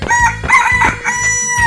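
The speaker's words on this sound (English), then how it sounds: "Chicken." A cartoon rooster crows loudly and close, a few rapid bright calls in quick succession over a background of music.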